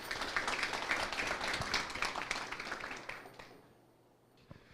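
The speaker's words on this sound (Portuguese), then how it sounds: "Então, salva de palmas para o Wellington." Audience applause at a talk event, dense clapping from a crowd that fades out after about three seconds into near silence, followed by one faint knock.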